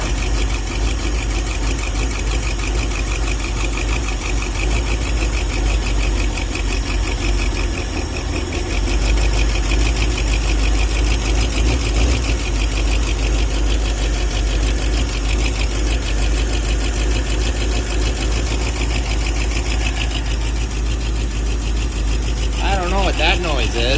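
A 1978 Ford F150 engine running rough with a knock and low oil pressure, a loud, close, uneven idle with rhythmic knocking and vibration that goes on steadily, with someone talking over it.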